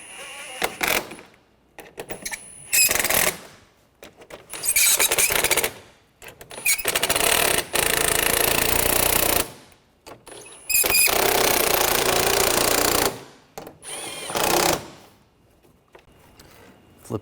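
A power tool drives down bolts on a 2013-2019 Ford Escape 2.0L during lower radiator support replacement, in a series of loud whirring, rattling bursts separated by short pauses.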